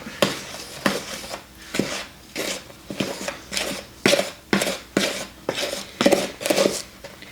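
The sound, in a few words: stirring blueberry muffin batter in a bowl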